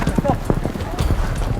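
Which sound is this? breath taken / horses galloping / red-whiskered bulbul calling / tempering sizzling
horses galloping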